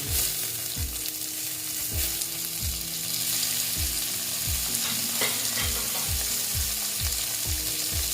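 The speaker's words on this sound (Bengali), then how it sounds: "আবার আমি এটা ভালো মতো মাংসের সঙ্গে একটু কষিয়ে নেব ভেজে নেব" Chopped tomato sautéed with meat in a pan sizzles continuously while a spatula scrapes the bottom in a steady rhythm of about a dozen strokes, close and loud, with no speech.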